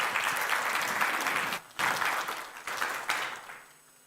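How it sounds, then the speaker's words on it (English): Audience applause for conference panelists at a fintech event, a steady dense patter of many hands that breaks off briefly twice and then fades out toward the end. "Ladies and gentlemen, a hand of applause to our panelists."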